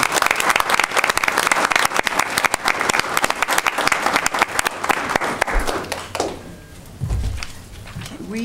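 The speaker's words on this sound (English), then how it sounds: "I think we need to give another round of applause." An audience at a school board meeting applauds in steady, dense clapping that fades out near the end, followed by a few quieter thumps and handling noises.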